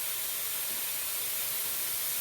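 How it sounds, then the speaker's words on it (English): A steady hiss of soy sauce squirted from a bottle into a bowl for a couple of seconds, continuous and fairly close, with no talking. "I just squirt some in there."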